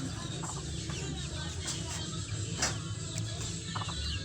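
Mother hens and their chicks on a farm cluck continuously nearby, soft repeated clucks and peeps overlapping in a busy flock chatter.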